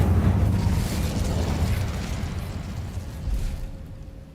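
Incendio fire spell cast in Hogwarts Legacy: a loud, roaring blast of flame with a heavy low rumble that slowly tapers off over about four seconds, with a smaller surge near the end and no talking.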